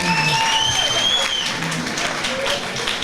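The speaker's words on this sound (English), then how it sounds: "keep the applause going" Steady, dense crowd applause fills a boxing club home show after a bout, a sustained wash of many hands clapping with faint voices within it.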